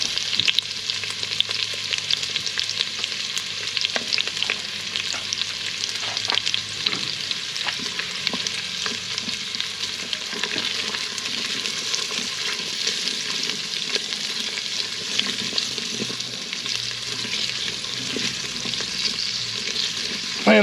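Green beans and onions sizzling in an Instant Pot, a continuous crackling fry with spitting pops and occasional stirring scrapes, close and steady with no talk.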